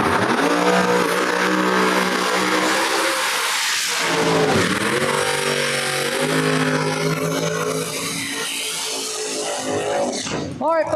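Two supercharged Pro Charger drag cars launch side by side at a no-prep drag strip, a loud roaring engine blast that surges and shifts pitch for several seconds before fading, with crowd noise and voices underneath.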